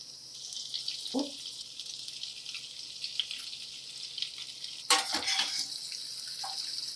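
Eggs frying in a pan for a cheesy egg sandwich: a steady, fairly faint hiss of sizzling oil runs throughout, with a louder crackling burst partway through as more eggs go in.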